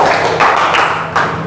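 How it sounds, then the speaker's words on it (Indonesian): Students in a classroom give a short burst of hand clapping, several loud overlapping claps. "Tepuk tangan dong untuk kalian yang semuanya merah"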